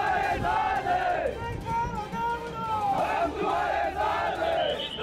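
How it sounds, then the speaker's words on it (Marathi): Political supporters gathered outside an office beside the Mumbai–Goa highway shout and chant together, a loud, surging crowd of raised voices rising and falling in waves. "कार्यालयासमोर गर्दी जमा झाली"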